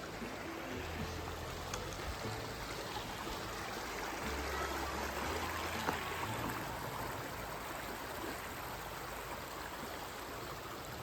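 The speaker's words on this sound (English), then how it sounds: "the water is running even better over here at the second bridge" Steady, even rush of running water, like a stream flowing nearby, continuous with no breaks.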